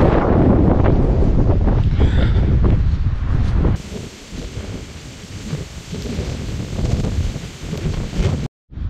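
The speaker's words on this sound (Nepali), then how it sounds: "कहीँ चाहिँ हावा अलिक बढी लागिरहेछ, धुलो उडाइरहेछ" Strong dust-raising wind in Manang, Nepal buffets the microphone with deep rumbling gusts, then eases into a steadier rushing blow before cutting off briefly near the end.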